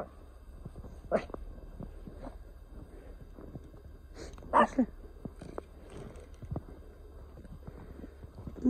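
A small dog yaps in a few short, sharp barks, the loudest pair near the middle, over a quiet outdoor winter background with faint voices.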